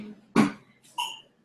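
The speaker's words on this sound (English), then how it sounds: "Thank you for coughing in my hangout." A young girl coughs twice in the background of a home office, each a short, sharp burst separated by a brief pause, with quiet room tone between.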